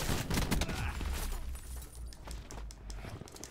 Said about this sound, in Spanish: A ver, va muy bien la escopeta